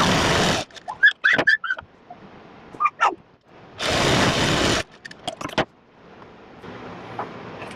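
An electric sewing machine stitches the folded sleeve hem of a baby dress in two short, steady whirring bursts, separated by quiet clicks, squeaks and fabric handling.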